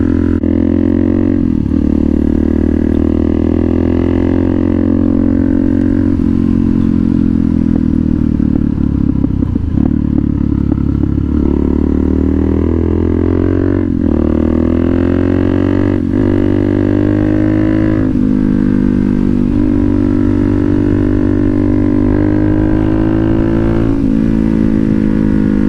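A Suzuki DRZ400SM motorcycle at nearly 5,000 miles rides along, its engine droning loud and steady throughout with repeated rises and falls in revs as gears shift.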